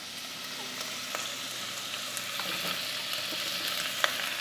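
Chopped tomatoes hit hot oil with softened onions, giving a steady close sizzle and crackle throughout, with a few sharper pops and spatters rising out of the even frying hiss.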